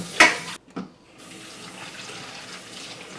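Water running from a kitchen sink tap over pumpkin seeds being rinsed, with a sharp splash at the start, a brief gap, then a steady close stream of flowing water continuing alone.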